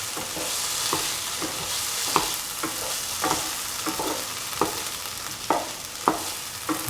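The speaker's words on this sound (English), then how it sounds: "Mix thoroughly so that the salt also is evenly mixed in the mixture." An egg, tomato and potato mixture with salt is stirred in a hot pan, a regular series of spatula scrapes and knocks landing roughly every half second over a constant sizzle.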